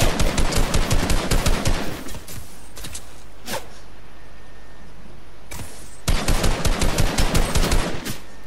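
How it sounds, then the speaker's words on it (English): Pulse rifle gunfire in the Fortnite video game, Chapter 2 Season 7, with two loud rapid automatic bursts separated by a quieter gap holding a couple of single sharp cracks. "Pulse rifle."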